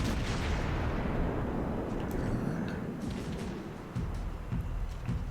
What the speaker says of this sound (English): It's a long-range HE shot.